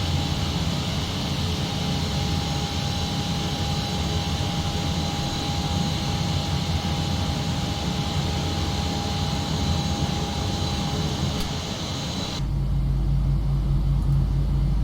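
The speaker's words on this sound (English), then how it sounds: "Hear the engine starting now." Boeing 737 engine spooling up in the Prepar3D flight simulator, a steady close whine and rumble with a thin sustained tone, the low roar deepening near the end.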